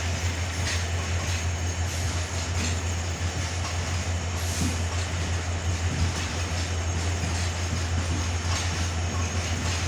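A train pulling out of Ibrahimabad railway station makes a steady, close rumble with faint rhythmic wheel clicks, continuous and unbroken throughout, with no voices.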